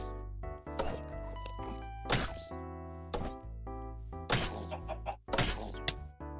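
Minecraft game audio with chicken clucks mixed among thunks, hits and busy music-like tones, a cluttered sequence of short sounds at moderate level.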